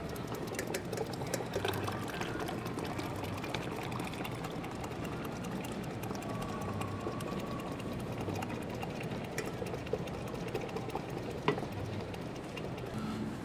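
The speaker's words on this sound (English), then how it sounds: "now we're just going to put the immersion blender in and start going" An immersion blender runs in a pozole spice mixture, a steady whirring motor with liquid churning, continuous and close for the whole stretch with no talk.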